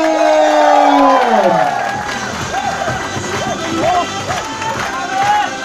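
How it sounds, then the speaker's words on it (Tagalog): A big crowd at a business leaders' meeting cheers and whoops over applause, with a sliding shout opening the burst and scattered yells and hubbub carrying on underneath at full volume. "Milyong-milyong palakpak po"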